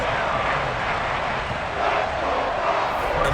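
In Madden NFL 23, a home crowd cheers in a broad, continuous roar with slight swells and no clear breaks.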